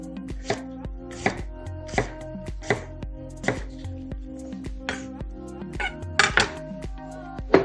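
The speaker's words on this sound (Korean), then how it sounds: "씨를 제거한 후 잘게 잘라서" Knife chopping a seeded half apple finely on a cutting board, a steady run of crisp, close thuds with a brief quicker burst near the end, with no voices.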